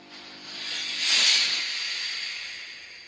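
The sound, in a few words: spraying starch on a shirt while ironing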